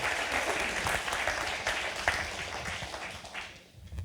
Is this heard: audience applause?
yes